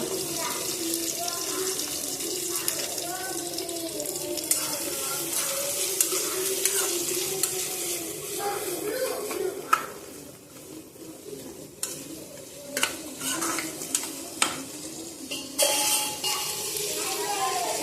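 Ginger, tamarind, dried chillies and onion sautéing in oil in a pan for mint chutney, a continuous close sizzle with irregular stirring clatters, partly under a speaking voice.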